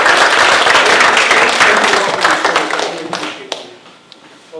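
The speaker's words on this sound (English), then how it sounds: "I want you to give them a round of applause" An audience gives a round of applause at a civic association meeting, a dense burst of many hands clapping that gradually thins and fades out over a few seconds.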